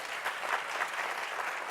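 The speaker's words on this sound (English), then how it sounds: "Clap." An audience applauds in a short, dense burst of clapping at a sales keynote, steady and fairly close, with no other sounds standing out.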